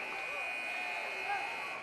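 A basketball game buzzer sounds at the end of a quarter, a steady sustained tone lasting about two seconds under crowd noise.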